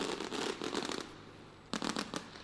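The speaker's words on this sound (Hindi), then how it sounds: "भव्य आतिशबाजी।" Fireworks at the Vikramotsav festival in Ujjain crackle in rapid bursts of sharp pops, two clusters separated by a brief lull, moderately distant and without talk.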